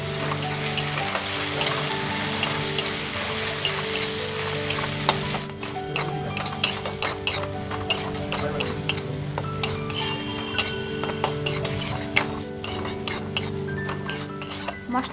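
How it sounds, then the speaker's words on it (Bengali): Black mustard paste hisses and sizzles as it is stirred into fried onions in a pan, with a steady frying sound throughout and frequent clinks and scrapes of a utensil against the cookware. "এখন সেই পেস্টটা এই ভাজা পেঁয়াজের মধ্যে দিয়ে দিলাম।"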